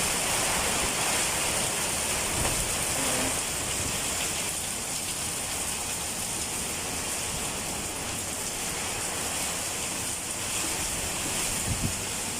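Typhoon rain pours steadily with a constant hissing roar of wind-driven water, dense and unbroken throughout, with no voices.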